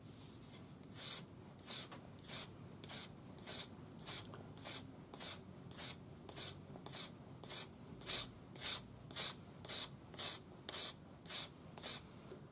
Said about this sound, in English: be sure you keep sanding until you don't see any more silver